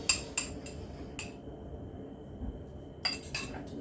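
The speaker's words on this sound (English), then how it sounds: "Put the rest of my egg in and I'm going to mix that" A spoon clinks and scrapes against a bowl while egg is mixed into Jammie Dodger biscuit dough: a few sharp clinks at the start, a quieter stretch, then more clinks near the end.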